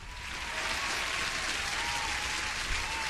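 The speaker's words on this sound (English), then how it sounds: "That deserves an applause." Steady applause fills the space for about three seconds, dense and even, with no voices rising above it.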